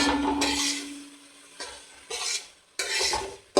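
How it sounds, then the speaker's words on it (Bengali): Ground spices (turmeric, cumin and Kashmiri red chilli) being stirred and fried in oil in a pan for chicken curry, with bursts of scraping and soft sizzling separated by short quiet gaps, close and moderately loud. "এবারে আস্তে আস্তে মশলাগুলো আমি ভেজে নেব"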